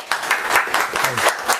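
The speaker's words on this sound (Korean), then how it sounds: "박수로 맞이해 주시기 바랍니다" Brief burst of audience clapping at an XR media forum, greeting a speaker as he takes the stage; the applause is steady and fairly close.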